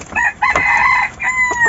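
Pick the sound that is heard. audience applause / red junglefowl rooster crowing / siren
red junglefowl rooster crowing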